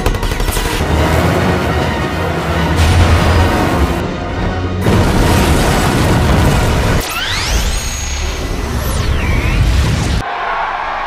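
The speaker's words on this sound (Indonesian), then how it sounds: "Ledakan EMP memadamkan semua robot." Loud, dense blasts and crackling bursts of an EMP explosion roar continuously, with sweeping electronic whines and a sharp cut near the end, like a sci-fi explosion.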